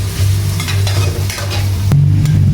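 Onions sizzle loudly in a hot pan for a mung bean dish, with a spatula stirring steadily through the frying and scraping close by.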